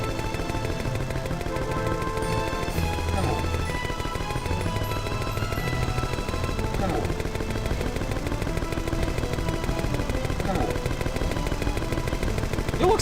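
Rapid gunfire rattles continuously in the video game Croc 2, dense and loud over a layer of game music, with no talking.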